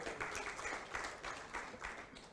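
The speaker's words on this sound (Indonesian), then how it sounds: "Bang Saleh Hussein, tepuk tangan juga untuk beliau." Audience applause fills a university honorary alumni award ceremony during a Dies Natalis anniversary event: steady, fairly close clapping that swells in several rhythmic waves throughout.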